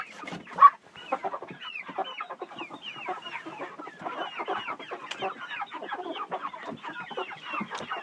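Chickens in a coop at dusk, a steady dense chorus of soft clucks and murmurs with one louder squawk near the start, close and continuous, no voices.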